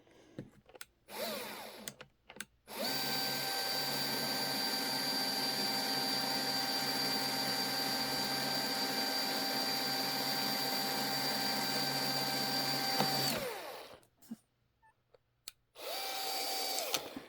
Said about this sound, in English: You're gonna hear it on speed. Right now it's on dial speed 6.